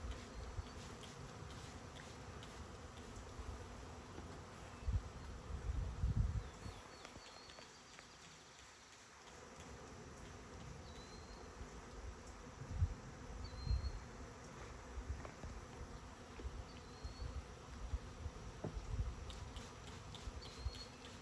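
Honeybee swarm clustered in a tree, a faint, continuous buzz of many bees with scattered louder low thumps and rustles nearby, heard outdoors.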